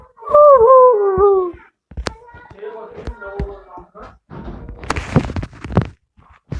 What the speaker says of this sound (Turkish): Aa, bu köpeğe bak.